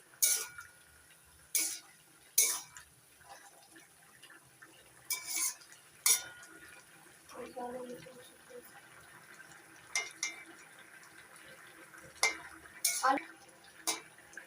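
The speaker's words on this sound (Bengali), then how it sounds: "এবার ঢাকনাটা তুলে দিচ্ছি নাড়াচাড়া করে দিচ্ছি" Stirring catla fish with potatoes and pumpkin greens in a pan gives sharp utensil clinks and scrapes at irregular intervals, with soft liquid bubbling in between.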